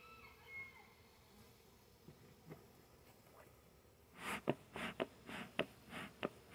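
Honey bees swarm over the top of a Florida hive, a faint, low buzz at first and then a burst of sharp, scrabbling bursts near the end, close by with no voices.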